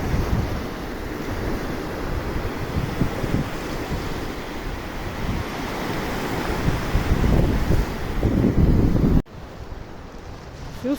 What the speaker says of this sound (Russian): И волны такие бушуют.